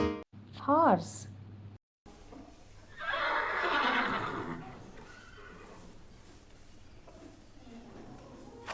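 A horse lets out one loud, shrill neigh that trails off into breathy snorting, heard right after a brief spoken word.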